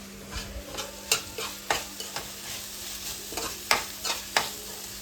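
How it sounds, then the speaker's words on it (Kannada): Egg rice with tomato fries in a pan, a soft steady sizzle broken by repeated scraping stirs of a spatula, close and fairly quiet with no voices. "ಚೆನ್ನಾಗಿ ಫ್ರೈ ಆಗ್ತಿದೆ"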